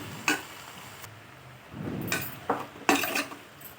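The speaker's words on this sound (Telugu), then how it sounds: "ఒకసారి బాగా మొత్తం కలిపేసుకుందాం" Chukkakura leaves and green chillies are stirred for chutney, scattered utensil clinks and scrapes against the vessel with a soft sizzle between them.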